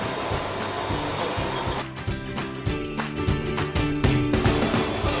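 A drill bores holes in the handle plate of a Laguiole corkscrew in a workshop, a loud steady whirring that turns into pulsing bursts as the bit cuts.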